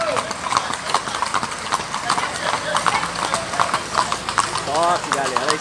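Many horses clip-clop in uneven overlapping rhythm during a group horseback ride at a ranch, hooves close and clear while people talk and call out loudly over them.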